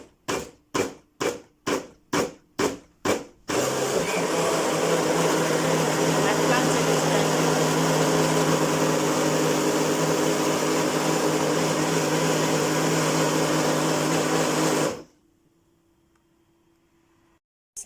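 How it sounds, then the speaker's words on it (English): A blender chops and purees plantain with pepper, onions and cloves: a run of short, loud pulses, then a long continuous whirring roar that cuts off abruptly, leaving a faint low hum. "So guys, it's blending now."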